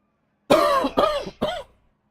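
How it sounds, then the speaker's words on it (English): Three harsh coughs in quick succession, close and loud, the last one shorter, followed by silence. "Get a cough out of the way."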